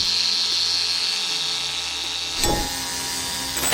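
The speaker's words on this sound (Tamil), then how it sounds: "ஸோ இப்போ நம்ம பேப்பரில் வந்து ஈஸியாக கட் பண்ணிட்டோம்." Battery-powered electric scissors cutting paper, a steady high-pitched motor whine with a buzzing drone, which shifts and crackles briefly as the blade bites through the sheet near the end.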